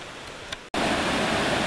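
Elliot Creek rushes with a loud, steady roar of flowing water. The sound cuts in abruptly after a quieter moment and then holds constant.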